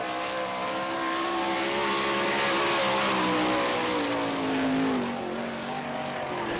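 Jeff Shepard's 4J sprint car, a 1998 champion's machine, runs a qualifying lap on a Gibsonton, Florida dirt track, its engine a loud, steady roar with pitch rising and falling through the corners, no voices over it.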